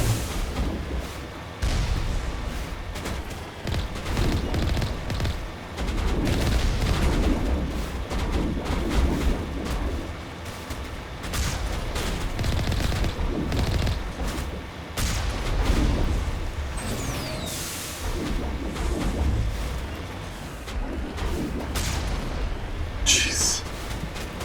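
Gunfire in the video game Mass Effect: dense, continuous bursts of shots and booming impacts throughout, loud and layered with a voice speaking at times.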